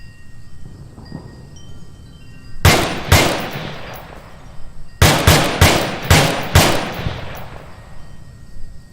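M16A4 rifle fire in the VR shooter Onward: separate sharp, loud shots ring out, first a pair, then a rapid string of about five, each with a clanging echo tail against a quiet background.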